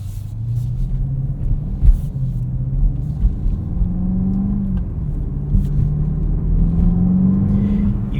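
A 2024 BMW X5 M pulls away at night, with a steady low engine rumble and a gentle rising drone as it accelerates, heard from inside the cabin with no talking.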